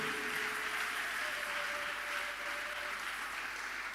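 A church congregation claps together in a dense, continuous wash of applause that holds steady throughout, with a faint sustained tone underneath.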